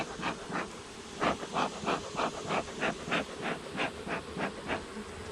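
Honey bees buzz on a hive frame during honey harvesting, making a close, continuous hum that swells in regular rhythmic pulses.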